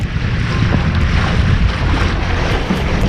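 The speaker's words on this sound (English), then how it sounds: "getting a bit of breeze up now" Wind buffeting and water rushing around a small Mirror sailing dinghy under way, a loud steady roar of breeze on the microphone over sloshing hull noise, with no talk.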